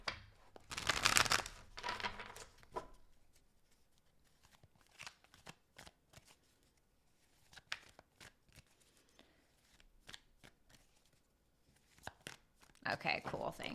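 Tarot cards being shuffled in quick riffling bursts near the start and again at the end, with scattered soft taps and clicks between, a voice occasionally heard in the background.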